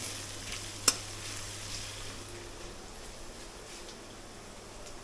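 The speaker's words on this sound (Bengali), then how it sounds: "এখন পেঁয়াজ ভাজার কাজ চলছে" Onions fry in a pan with a soft, even sizzle and hiss throughout, marked by one sharp utensil click early on.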